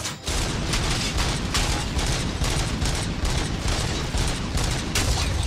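Sustained automatic gunfire from a combat firefight in the RoboCop: Rogue City video game, loud and continuous with dense rapid bursts and booming impacts for the whole stretch, no voices over it.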